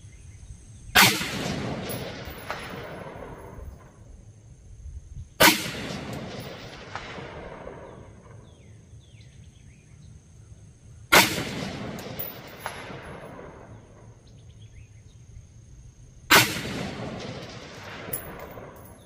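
Four sharp rifle reports from a Bear Creek Arsenal 16-inch 5.56 carbine fired at long range, each a loud crack followed by a long rolling echo, spaced roughly five seconds apart with quiet in between.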